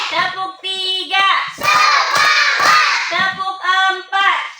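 A class of children claps a counted routine led by a teacher in an Indonesian classroom, bursts of group clapping between a teacher's spoken calls and children's chanted replies.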